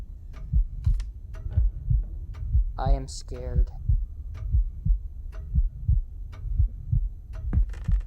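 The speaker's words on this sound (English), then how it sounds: "a heartbeat would make sense if you were nervous" A VR horror game plays a steady, close heartbeat thump that repeats rhythmically the whole time, while a nervous voice speaks briefly over it.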